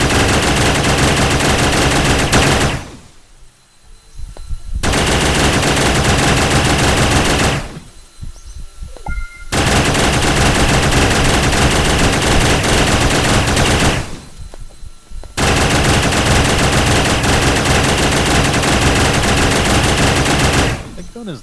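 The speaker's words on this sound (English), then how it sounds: "Gun is loud." Loud, sustained bursts of rapid gunfire from a weapon in the modded video game Starbound, long continuous volleys broken by short pauses, close and dominant.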